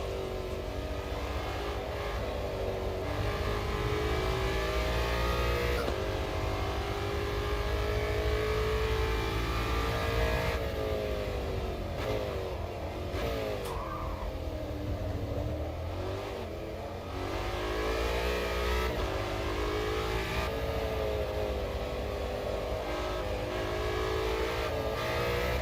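Race car engine in the sim racing game Automobilista 2, revving and accelerating continuously through gear changes, loud and sustained with steady engine drone throughout.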